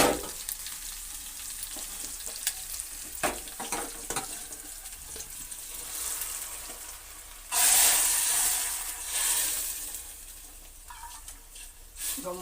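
A spice tempering for lentil sambar sizzles and crackles in hot oil, with a steady frying hiss that swells into a louder, bright sizzle partway through and continues to the end, alone.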